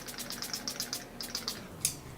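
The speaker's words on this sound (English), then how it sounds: "I'm gonna take my Badescu facial rose water spray" Mario Badescu facial rose water spray is misted onto a face in a rapid string of about a dozen short, close, airy spritzes.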